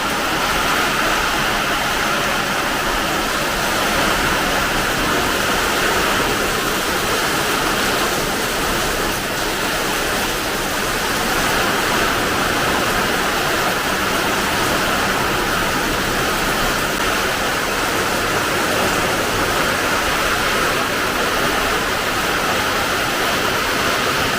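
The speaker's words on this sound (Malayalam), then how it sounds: "സാധാരണ മഴയൊന്നുമല്ല" Heavy rain pours down in Kerala during windy, stormy weather, a dense, unbroken roar of water that stays loud and even from start to finish.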